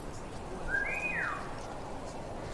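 A character whistles in the War Mongrels stealth game: a single short rising-then-falling whistle, clear and moderately loud over a quiet ambient background.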